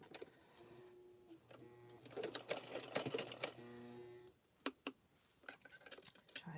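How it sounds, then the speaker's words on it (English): Sewing machine running a zigzag stitch over rope, in several bursts of steady mechanical whirring with short pauses, then a few sharp clicks and handling noises near the end. "let me get my sewing machine started here."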